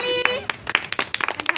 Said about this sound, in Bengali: সবাই একটু করতালি দিয়ে একটুখানি এনকারেজ করুন